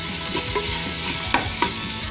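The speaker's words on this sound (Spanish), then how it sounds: "ahí vamos a echar también el tomate" Peeled tomato goes into a caigua stew frying in a pan, giving a steady sizzle with a few sharper stirring and scraping knocks close by.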